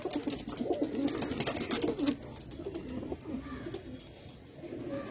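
Pigeons of show-quality patta varieties, such as Kalsera and Lalsera, give low, throaty coos that repeat steadily and close by against a faint noisy background, without talk.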